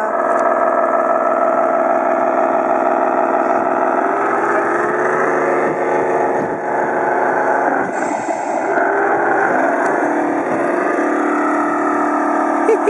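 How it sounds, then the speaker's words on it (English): A Ford F350 truck engine idles and revs steadily at a bull and barrel festival, its exhaust tips vibrating with a continuous loud, close rumble and no talking. "Oh, the exhaust vibrates so well."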